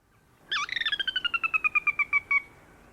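A marsh bird gives a descending, horse-like whinny: a rapid series of about fifteen clear pulsed notes stepping down in pitch over roughly two seconds, close and alone against quiet background.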